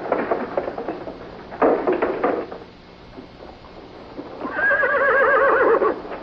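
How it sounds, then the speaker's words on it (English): Matched gray horses being readied to draw a caisson in a 1963 state funeral procession, with close clattering hoof knocks on hard ground and a loud wavering whinny, no talk. "Drawn by matched gray horses, it will carry President Kennedy's flag-covered casket in final procession through the Capitol"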